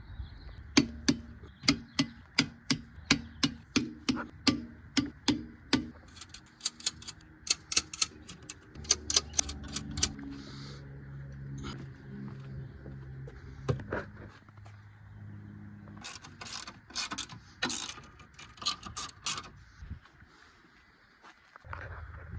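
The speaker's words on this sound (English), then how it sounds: "I am going to torque down both of my wheels" A torque wrench tightens lug nuts on an E36 car wheel, giving a fast series of sharp clicks followed by later bursts of clicking, close up in a quiet garage with faint background hum.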